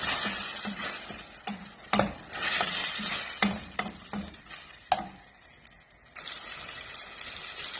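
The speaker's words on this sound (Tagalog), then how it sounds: "habang ginigisa natin yung kamatis" Tomatoes sautéing in a hot pan, a sizzle with repeated clattering stir strokes of a utensil against the pan, close up; the sizzle dips near the end and then returns steady.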